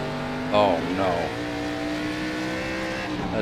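Race car engines in the iRacing sim during an ARCA race at North Wilkesboro give a steady, fairly loud drone with rising revs, and someone talks briefly over them.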